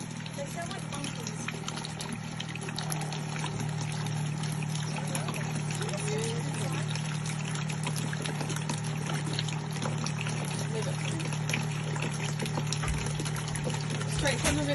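A 12V pump draws river water for a caravan at a free campsite, giving a steady low hum with continuous water rushing and trickling throughout, outdoors with broadband background noise.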